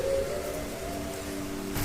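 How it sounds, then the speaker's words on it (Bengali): Steady patter of light rain, soft and even throughout, with a low sustained hum underneath. "বৃষ্টি পড়ছে টিপটিপ করে আকাশে গর্জন"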